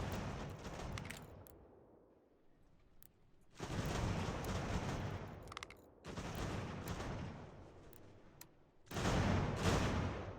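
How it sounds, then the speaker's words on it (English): Mortar and cannon fire from the video game Ultimate General: American Revolution in a naval battle, heavy booming blasts arriving in separate bursts with rumbling decay and quieter gaps between salvos. "They're just using the mortar."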